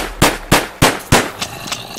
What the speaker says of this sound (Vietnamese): Rồi mình sẽ lấy súng bắn những cái con gần ra trước ra.